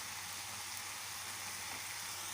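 Chicken breast sizzles in a pan with garlic, salt, pepper and cumin, a steady low hiss of frying with no breaks.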